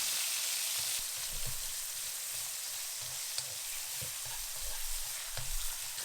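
Eggplant sizzles steadily in hot cooking oil in a wok while being pressed and crushed, with soft repeated low thumps and scraping under a continuous close frying hiss.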